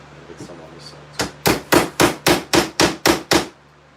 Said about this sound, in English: Hammer it in there, and get some on this side too.